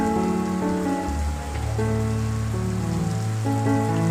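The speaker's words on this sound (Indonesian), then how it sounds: "Tiba-tiba hujan turun" Steady rain falls in a continuous, even hiss with no voices, while sustained tones sound underneath throughout.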